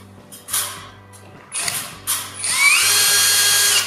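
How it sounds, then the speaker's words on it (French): A power drill drives screws into wooden boards while a flat-roofed garden shed is assembled outdoors, giving several short whirring bursts and then one longer, steady, loud spin. "Et on visse."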